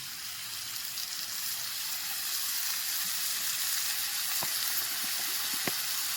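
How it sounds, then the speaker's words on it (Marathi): Oil sizzles and fries steadily in a hot pan while shengsolana (khengat) is cooked for Bhogi, with a few sharp crackles and pops near the end, close and alone without talk. "आता तेल टाकून घेणार आहे"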